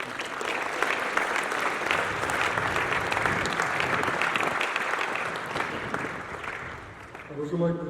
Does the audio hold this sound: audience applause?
yes